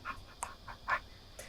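A person imitates a puppy panting with its tongue out, giving a quick series of breathy huffs, about five close, short puffs in a little over a second.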